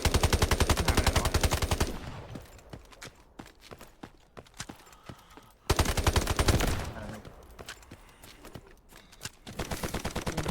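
Automatic gunfire from the mobile shooter Delta Force: two loud sustained bursts of rapid, evenly spaced shots, a quieter stretch of scattered sounds between them, and more shots resuming at the end.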